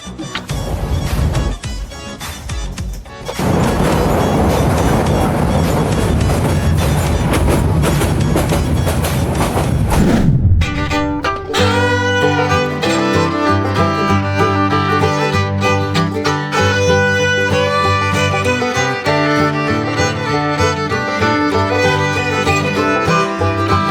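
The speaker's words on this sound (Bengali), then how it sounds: "ফাইনালি আসছে আমাদের ট্রেন, ফাইনালি আসলাম ট্রেনে।" Rumbling, rattling noise of a passenger train ride in Bangladesh, loud and continuous for about ten seconds before music takes over for the rest.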